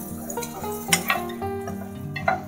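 Onions fry in a pan for baby corn curry while a spoon stirs them, giving light scrapes and clinks over a soft, steady sizzle with a few sharper knocks against the pan.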